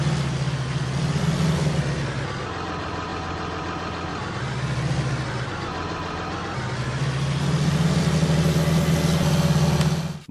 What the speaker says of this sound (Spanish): Qué padre tractor nos compramos